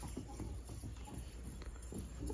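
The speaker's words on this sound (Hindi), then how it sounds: "देखे जी घोड़े के कदम चेक करे माशाल्लाह" A newly bought horse's hooves clip-clop at a walk outdoors, a steady, fairly faint rhythm of hoofbeats under background noise.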